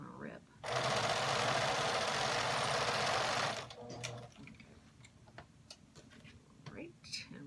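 A sewing machine runs steadily while stitching quilt blocks, a close, even buzzing whir lasting about three seconds before stopping, followed by soft handling noises and quiet talk.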